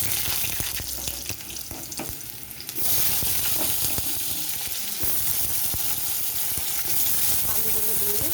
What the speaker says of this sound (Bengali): আলুগুলো দিয়ে কিছুক্ষণ আমি ভেজে নেব ফোড়নের সাথে।